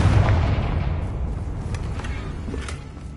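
A Confringo spell blasts in Hogwarts Legacy, a heavy booming explosion that opens loud and rumbles down over a few seconds, with small crackles in the tail.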